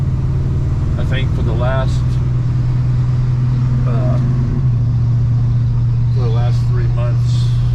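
A 1939 Packard car driving up, a steady low engine hum running throughout under several people talking nearby.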